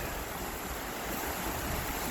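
Steady outdoor water rush of Peach Bottom Creek flowing, a continuous broadband wash with some wind noise on the microphone, even and unbroken throughout, no voices.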